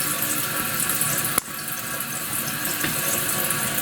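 Water runs steadily into a toilet tank refilling after a flush through a serviced fill valve, a continuous hiss and trickle broken by a single sharp click partway through.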